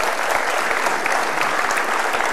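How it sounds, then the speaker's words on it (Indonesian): Studio audience applause on an Indonesian television talk show, dense steady clapping from a large crowd that holds at an even, fairly loud level throughout with no voices over it. "Baik, kita kasih tepuk tangan."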